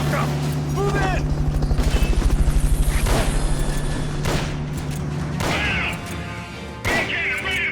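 A helicopter in Metal Gear Solid Peace Walker drones with a steady rotor chop, loud and close, while gunfire, crashes and in-game voices break over it.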